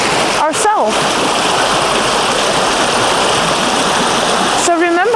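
Water rushes steadily along a river in the Bosnian valley of the pyramids, a loud, continuous broadband wash close by, with a voice briefly at the start and end.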